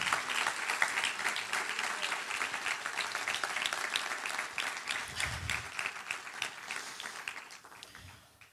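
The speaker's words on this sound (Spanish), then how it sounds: "Dale un aplauso al Señor." A church congregation applauds during a sermon, with sustained clapping from many people that stays fairly even, then gradually thins and softens toward the end.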